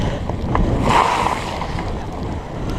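A Surly Moonlander fat bike rides through a night water crossing, a steady wash of splashing and rushing water mixed with wind buffeting the microphone, swelling briefly in the middle.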